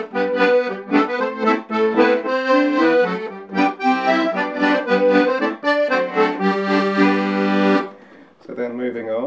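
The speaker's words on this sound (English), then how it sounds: "we've got this convenient little lever on the side which pulls in the master coupler, and it sounds like this." Crucianelli 120 bass accordion played with the master coupler engaged, sounding a run of loud, full reedy chords and notes for about eight seconds before a brief pause and a softer closing chord.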